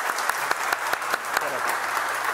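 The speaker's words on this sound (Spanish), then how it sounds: "aquí a los que están presentes les pido un fuerte aplauso" Audience at a live Colombian magic show claps in a steady burst of applause, with sharp individual claps standing out over the crowd.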